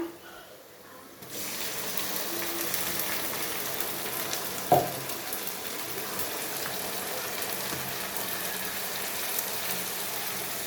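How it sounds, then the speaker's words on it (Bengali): Chopped onions frying in a pan until reddish: a steady, loud sizzle begins after a quiet second and runs on evenly, with one sharp clink of a utensil partway through. "পেঁয়াজটা লাল লাল করে ভেজে নিয়েছি।"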